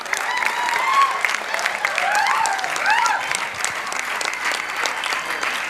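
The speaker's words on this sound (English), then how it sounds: "A big round of applause for all the volunteers, Sikasa team and Chairman Sikasa Ajay Chaudhary" A hall audience at a conference gives a big round of applause for the volunteers, steady dense clapping with occasional cheers and whoops rising above it, fairly loud and sustained.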